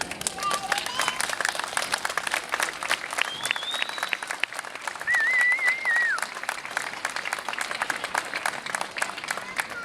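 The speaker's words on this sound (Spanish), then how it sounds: "Pues desde aquí también un fuerte aplauso y un fuerte sentimiento para ellos" Applause from a crowd at the closing of the Patraix popular festivities in Valencia, dense steady clapping with a few whistles rising above it.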